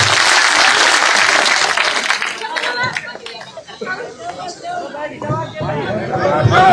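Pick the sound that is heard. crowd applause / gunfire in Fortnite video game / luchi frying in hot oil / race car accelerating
crowd applause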